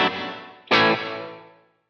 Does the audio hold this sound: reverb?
yes